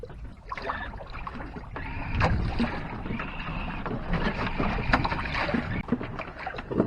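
A trimaran sails dead downwind on Lake Erie, with a steady broadband rush of water along the hulls and buffeting wind noise on the microphone, fairly close and continuous throughout.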